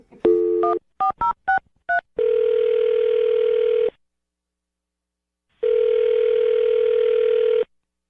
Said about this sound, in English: I'm going to dial his phone right now